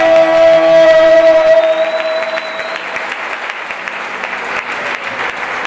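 Church congregation bursting into applause and cheering, a loud, dense roar of clapping with sustained musical tones ringing underneath at first that fade out, leaving the crowd's clapping to carry on alone.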